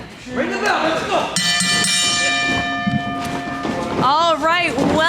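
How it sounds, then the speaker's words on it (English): At a professional wrestling event, the ring bell is struck once and rings out with a loud, sustained metallic clang that slowly fades while an announcer shouts over it. "Ring the bell, let's go!"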